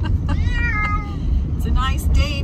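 A cat riding in a car on the way to the vet meows several times, loud and close, with wavering drawn-out cries over a steady low road and engine rumble.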